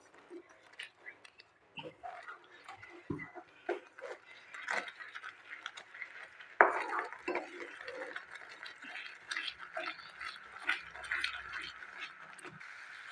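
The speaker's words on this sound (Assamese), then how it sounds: "এইদৰে মই লৰাই থাকিম।" Coconut barfi mixture with cardamom powder stirred in a pan, a series of irregular scraping and clicking strokes of a spoon against the pan, close and fairly quiet, with a sharper knock partway through.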